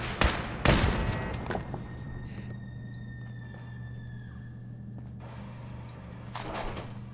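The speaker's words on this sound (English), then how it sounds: "No, that's just the turret." Automated turret in Fallout 4's Nuka-World, firing rapid bursts at the start, with a loud cluster of shots followed by scattered hits and mechanical whirs over a steady hum.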